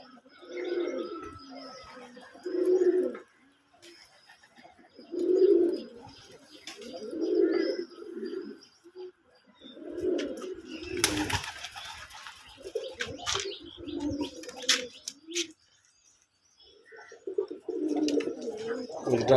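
Pigeons on a Bangladeshi pigeon farm coo repeatedly in low, throaty bursts, several birds close by, with short breaks between calls, some rustling and a brief flutter of wings.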